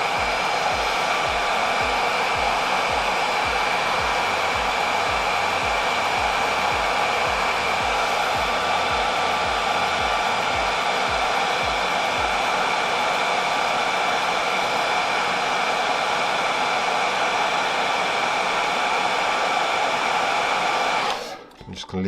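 A heat gun or hair dryer blows with a loud, steady roar for about twenty seconds while heating the bumper pin of a Kirby Classic III vacuum, then cuts off abruptly at the end.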